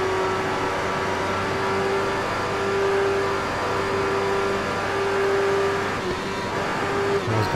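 Race car engine in a racing video game, a steady sustained drone with a constant whine over a rumbling low end, holding at one level throughout without talk.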